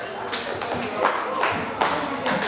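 A birthday party crowd claps in unison on request, with about five sharp, close group claps spread evenly through the clip. Voices murmur underneath.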